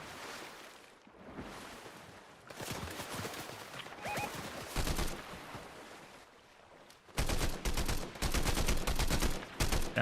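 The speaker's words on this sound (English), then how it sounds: "someone's shooting me" Fortnite gunfire in a Zero Build squads match: bursts of rapid automatic shots at close range, broken by short pauses, ending in a long, loud sustained volley.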